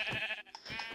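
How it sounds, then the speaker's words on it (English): Two sheep in the Minecraft video game bleat in quick succession, short wavering nasal calls heard close and fairly quiet, with no talking. "There's a sheep. Two sheep."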